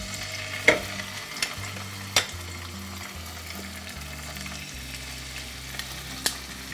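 Seasoned salmon fillets sear skin side up in hot olive oil, a steady close sizzle with a few sharp pops and spatters breaking through.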